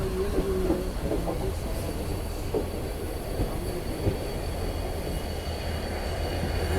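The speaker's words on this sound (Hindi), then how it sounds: "ये देखो ये हो रहा है इसका लोको रिवर्सल, और अभी लोकोमोटिव की कपलिंग भी हो गई है इसकी" Sairang–Guwahati Express during a locomotive reversal and coupling, a steady heavy rumble of rail cars with faint metallic squeals and occasional clanks, continuous and fairly close, with no talking.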